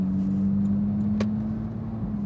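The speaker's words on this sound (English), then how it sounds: "let's open these exhausts up a little bit" Porsche GT3 engine with its exhausts opened up, a steady low drone while cruising through a neighborhood, with a brief sharp transient partway through.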